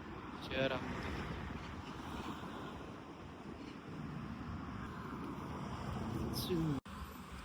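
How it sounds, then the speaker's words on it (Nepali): A cool breeze blows steadily at an open morning-walk spot beside a small canal and stream, its soft, continuous rush buffeting the microphone at a low level throughout. "शीतल सरर हावा चलिरहेको छ, चिसो है"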